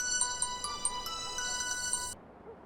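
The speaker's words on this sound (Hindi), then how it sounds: "तुम्हारे बेटे का फोन है, उठाओ ना।" A mobile phone rings with an incoming call, a bright repeating electronic melody of short beeping notes played over quiet background for about two seconds before stopping abruptly.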